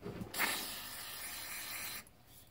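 Carburetor cleaner sprays in a steady hissing burst onto the carburetor of a Tecumseh 8hp small engine, close and fairly quiet, starting abruptly and cutting off after about a second and a half, with no voices.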